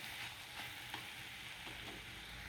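Tomatoes and onions fry with salt in a pan for a bitter gourd thokku, making a faint, even sizzle with soft stirring and no talking.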